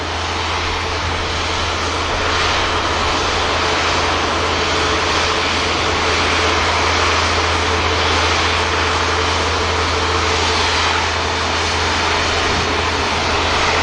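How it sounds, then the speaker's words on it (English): An Airbus A350 lines up on the runway at Manchester Airport, producing a constant, loud engine roar with a steady low hum that stays even throughout, heard from a distance with no voices. "Beautiful 350 now lining up"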